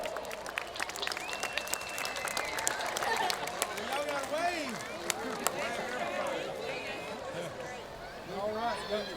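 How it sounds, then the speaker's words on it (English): An audience applauds and cheers for new Waco ISD Lifetime Athletic Honor Roll inductees at a high school football game, with steady crowd clapping, scattered whoops and voices talking over it. "Let's honor them with a round of applause."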